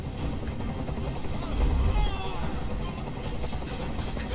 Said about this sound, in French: Je peux plus supporter ce bruit. Fais dégager cet hélicoptère, maintenant.